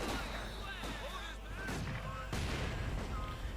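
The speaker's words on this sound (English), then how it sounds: "we got the Vickers merrily firing away at the Pioneers, nicely suppressing them" A Vickers machine gun firing in Company of Heroes 2, bursts of distant gunfire mixed with battle noise and game sound effects under a steady background tone.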